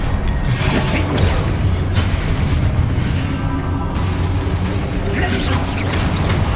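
Loud, dense fiery blast effects from a Confringo spell in the game Hogwarts Legacy, a continuous roar of booms and crackling bursts filling the whole stretch with a few swelling peaks.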